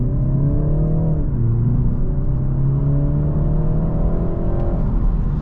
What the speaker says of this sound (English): We're gonna do a full acceleration here.